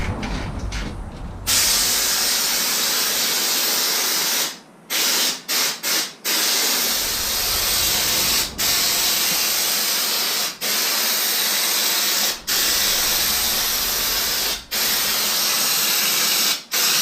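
Spray gun laying a first coat of paint on the roof of a 1998 Land Rover Discovery: a loud, steady hiss that runs almost without a break, cut by a few short pauses as the trigger is released.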